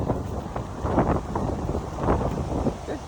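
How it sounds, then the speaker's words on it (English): Wind gusts buffet the microphone outdoors on a blustery day while a dog is walked on a long leash, a rough low rumble that swells and fades in uneven surges. "Man, it is windy today."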